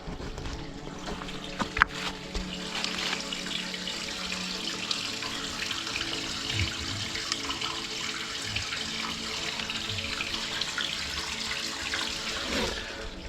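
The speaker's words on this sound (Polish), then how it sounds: "patrzcie jak ta woda tutaj leci." Water rushes steadily and evenly for the whole stretch, a broad, constant splashing flow close by with no voices.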